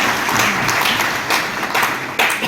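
Sustained applause from a crowd, steady and fairly loud throughout, with a brief swell near the end.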